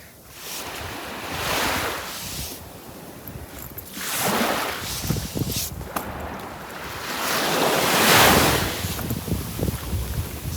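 Sea waves wash onto the shore in slow, repeated surges that swell and recede, with wind buffeting the microphone throughout and no voices.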